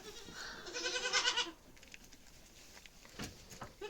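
A goat bleats in a wavering, nasal cry lasting about a second, up close, then a quieter rustle and a short second call, all fairly faint on a farm where goats are being given soda.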